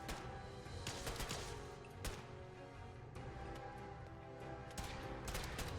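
NPC gunfire aimed at the player in Fallout 4, a dense, continuous battle of overlapping shots and crackling bursts, steady and muffled at low level, with occasional sharper reports standing out.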